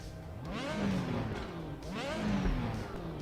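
A car engine in a rally racing sim starts and revs twice, each rev rising and falling in pitch, loud and close with no talking.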